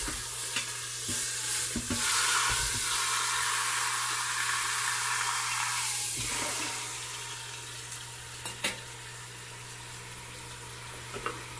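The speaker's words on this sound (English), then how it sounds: "We're going to cook this down and get a nice sear on it." A pork roast searing in an Instant Pot gives off a steady, close hiss and sizzle that holds throughout, broken by a few faint clinks and scrapes.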